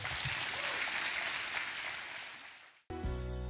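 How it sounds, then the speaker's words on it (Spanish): Church congregation applauding, a dense, steady wash of clapping that fades out, then music cuts in abruptly near the end. "Dale un aplauso al Señor"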